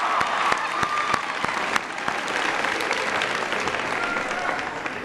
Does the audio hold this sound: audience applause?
yes